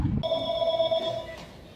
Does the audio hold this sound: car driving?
no